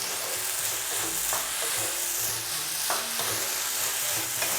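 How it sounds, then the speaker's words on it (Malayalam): Grated potato with green chilli and salt being sautéed in a pan for hash browns, a steady close sizzle with intermittent scraping stirs of a spoon, no talking. "ഇനി ഒരു 2 മിനിറ്റ് മാത്രം നമ്മളൊന്ന് വഴറ്റിയെടുത്താൽ മതിയാവും"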